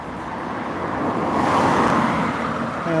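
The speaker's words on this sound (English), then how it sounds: "See how this sounds, the traffic noises quite a bit" Steady road traffic on a street during a walk, a continuous broad rumble of passing cars and vehicles that swells slightly midway, with no talking.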